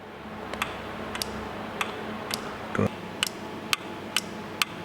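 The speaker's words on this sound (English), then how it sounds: "listen for the click when I energize this solenoid" A Skoda Octavia A/C compressor solenoid with a variable displacement compressor fault clicks repeatedly when energized: sharp, close, fairly evenly spaced ticks over a quiet hum, with one duller knock partway through.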